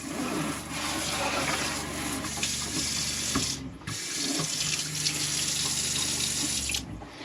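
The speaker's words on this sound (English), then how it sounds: "Let me turn on the water." Water streams steadily from a newly installed Recpro kitchen sink faucet with a spray nozzle, a close, continuous splashing rush into the basin that pauses briefly once or twice.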